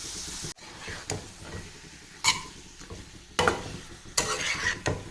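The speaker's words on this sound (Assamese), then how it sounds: "আৰু এনেদৰে মাংসখিনি মই কিছু সময় ফ্ৰাই কৰি থাকিম।" Chicken pieces fry in a pan, a close sizzle broken by irregular stirring scrapes and clatters, with several louder bursts as the meat is turned; no talking.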